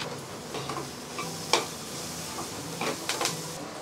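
A few curry leaves hit a hot pan for an eggplant and egg curry, giving a steady sizzle punctuated by sharp spoon clinks and scrapes against the metal.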